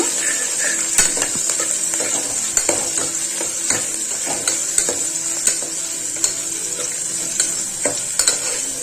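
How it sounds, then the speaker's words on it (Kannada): Curry leaves and sliced onion fry in oil for a masoor dal sambar, a bright constant crackling sizzle broken by frequent quick clicks and scrapes of a spoon stirring the pan. "ಇದಕ್ಕ ಕರಿಬೇವು ಹಾಕತೀನಿ. ಎಲ್ಲ ಎಣ್ಣೆಯೊಳಗ ಫ್ರೈ ಮಾಡ್ತೇವೆ."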